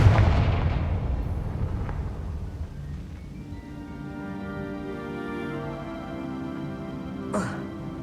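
A fiery Confringo spell blast in the Hogwarts Legacy video game, a loud booming burst at the start followed by a rumbling, crackling tail and a sharp second pop near the end.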